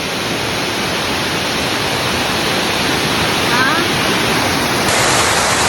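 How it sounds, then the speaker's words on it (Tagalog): Bamboo Falls at Kasilak, New Corella, Davao del Norte, roars as a loud, steady wash of falling water close by, with a voice briefly heard over it. "Here at Bamboo Falls."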